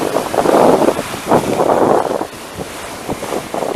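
Ocean waves wash up on a beach on Grand Bahama Island in a steady broadband roar with rising and falling surges, mixed with heavy wind buffeting on the microphone.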